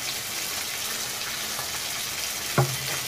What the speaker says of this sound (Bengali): এখন আমি পাবদা মাছের ঝাল করবো তাই জন্য মাছগুলো আগে ভেজে নিচ্ছি